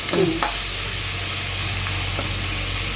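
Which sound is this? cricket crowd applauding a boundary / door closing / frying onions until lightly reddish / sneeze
frying onions until lightly reddish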